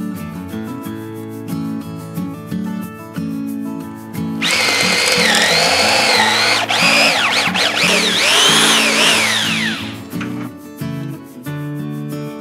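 A power drill bores a hole with a drill bit, a loud sustained whine with rising and falling pitch for several seconds, set between quieter stretches of handling noise.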